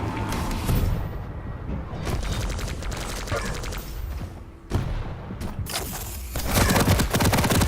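Rockets launch and explode in Quake, with dense rapid blasts and weapon fire, loud and close, dropping out briefly before the barrage resumes heavier near the end.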